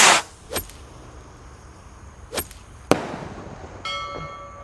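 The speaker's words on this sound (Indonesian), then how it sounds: "Ini roket Roman candle terbesar ya" Gold Dragon Roman candle rocket firework going off outdoors: a few sharp whooshing bursts and cracks spaced apart, ending with a faint ringing tone, with no voices.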